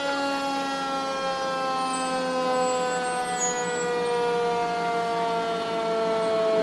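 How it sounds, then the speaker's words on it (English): Fire truck siren wailing loud and steady at a Christmas parade in Wells, with a sustained held tone over a constant low rumble of passing trucks. "There's quite an array of fire trucks coming through here at this point"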